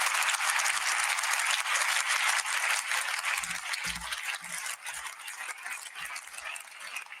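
A live audience applauds at a talk, a dense, steady wash of clapping that fades slightly toward the end, with a few low thumps mixed in.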